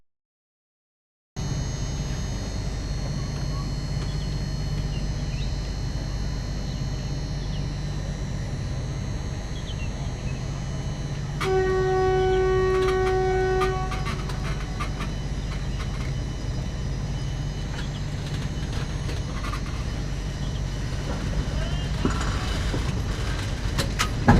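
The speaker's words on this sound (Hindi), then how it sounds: "ये लीजिए चिलमिला से निकल गई ट्रेन।" Passenger express train, the 14233 Saru Express, pulling out of a station in India, a steady loud rumble with mechanical creaks and a sustained tonal squeal midway, recorded from on board without talk.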